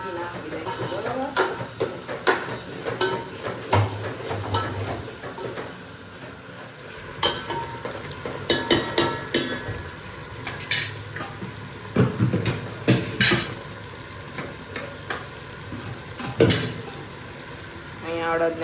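Boiled urad dal stirred into a hot frying pan at home, with repeated spoon scrapes and clanks over a low sizzle, a few sharp knocks, and faint background voices.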